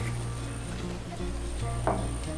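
Ginger paste sizzles in hot oil, with cumin already in the pan, for an aloo potol vegetarian dish; a soft steady frying hiss with faint stirring clicks, no one talking.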